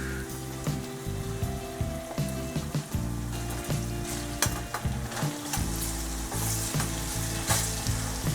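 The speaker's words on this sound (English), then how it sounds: "On high heat, I'm gonna let it simmer for at least 10 to 12 minutes." Cajun chicken with garlic and salt sizzling in a pan over high heat, a steady loud frying hiss with crackles and occasional stirring scrapes throughout, no talking.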